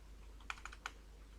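A few sparse taps on a laptop keyboard, three quiet clicks in quick succession over a faint steady background, with no talking.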